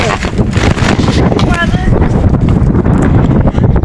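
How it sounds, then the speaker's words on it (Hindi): Strong wind buffets the microphone in a park while friends ride bicycles, a loud continuous rumble that runs through the whole moment with voices talking over it. "बहुत टाइट हवा चल रही है यहाँ से तो भाई"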